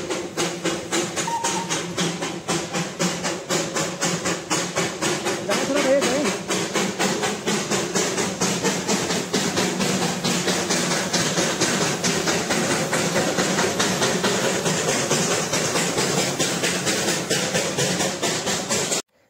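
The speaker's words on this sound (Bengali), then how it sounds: "এই যে সুন্দর মুহূর্ত যে টয় ট্রেন" Darjeeling toy train at Batasia Loop, a steady hissing and rumbling run of the heritage railway with a continuous chuffing rhythm, fairly close and loud, fading at the end.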